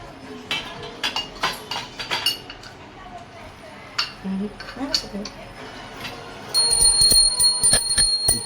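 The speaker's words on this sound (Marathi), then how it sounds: "दाखव कशी घंटी वाजवतात" A small brass puja hand bell rings at home during a Thursday devotional worship, struck in quick repeated bursts with metallic clinks of vessels, then ringing steadily near the end while voices talk around it.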